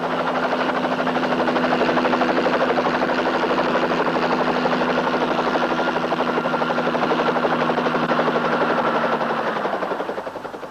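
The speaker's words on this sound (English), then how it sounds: "The copter, Natasha" A helicopter's rotor beats in a loud, steady, close chop with an engine whine underneath, holding level for about ten seconds before easing slightly at the end, with no speech.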